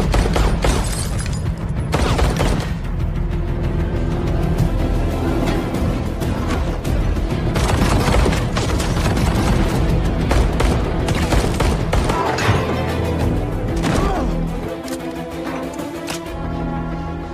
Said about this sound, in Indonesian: Dusty menolaknya dan menembak mereka.